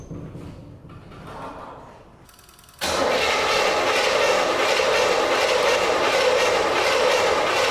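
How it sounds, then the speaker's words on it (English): A 1984 Monte Carlo SS, sitting unused for 22 years and fed old gas, cranks and tries to start: after a quiet stretch, a loud, sustained, steady churning roar abruptly kicks in and continues evenly, close up. "So we're gonna try to just start it with the ignition system working"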